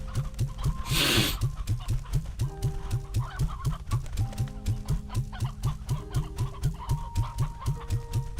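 Hens cluck steadily in a continuous, close rhythmic chatter, with a brief burst of broadband noise early on.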